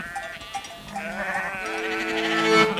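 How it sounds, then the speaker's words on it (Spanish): Sheep bleating on a large green pasture on a farm in Canada, several overlapping calls rising and holding, fairly close and steady with no talk. "Ovejas que corren en un inmenso pasto verde."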